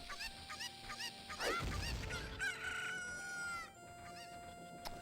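Cucco chickens in the Ocarina of Time video game cluck and squawk repeatedly in short chirping bursts over game background music, with one louder descending cry near the middle, no speech.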